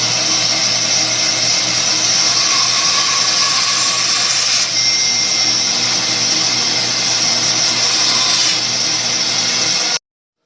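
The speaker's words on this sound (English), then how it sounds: "We're going to cut this piece off, trim this end, and then one more cut." Power tool cutting a wooden fiddle piece, a loud steady whine running unbroken for about ten seconds, alone and close.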